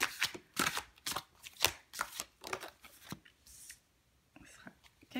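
Tarot cards shuffled and drawn by hand, a close series of quick papery riffles and soft snaps in irregular bursts that fade toward the end, with hushed, whispery speech around them.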